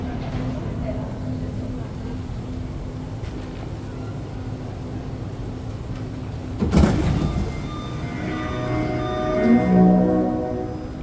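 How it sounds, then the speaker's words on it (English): REM light rail train doors at Nuns Island station in Montreal open with a sudden thump and slide, rising out of the steady hum of the car, followed by soft tonal chimes. "Doors are going to open up here."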